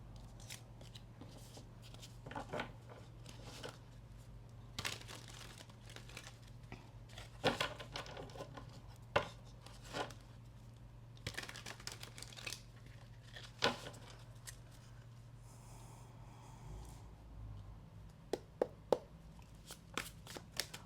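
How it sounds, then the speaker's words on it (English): Tarot clarifier cards being shuffled, soft repeated riffles and card slaps at an irregular pace, close and quiet over a steady low hum, with no talking. "Let's give your clarifiers a quick shuffle"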